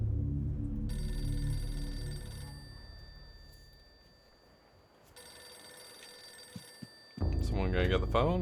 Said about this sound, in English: Someone gonna get the phone, or?